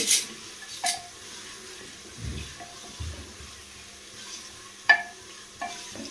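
Peas frying in a pan on the stove while being stirred, giving a faint, steady sizzle broken by a few sharp scrapes and clinks of the spoon. Nobody speaks.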